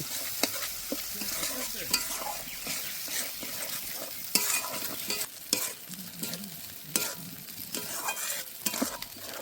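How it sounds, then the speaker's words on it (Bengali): Soybean curry with coriander, capsicum and green chilli paste sautés in a pan, giving a continuous sizzle under repeated scraping strokes of a spoon, with no talking. "এবার ভালো করে কষে নেব।"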